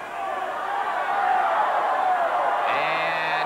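A large wrestling arena crowd at a 1986 NWA Continental match roars steadily in loud, sustained disapproval, a dense wash of voices swelling throughout with a sharp shout near the end.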